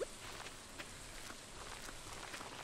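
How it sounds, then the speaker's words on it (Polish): Steady, even rain in the video game Stardew Valley patters down with a soft broadband hiss and scattered faint drops, with no voices. "No teraz jak pada, no to trzeba zasiać"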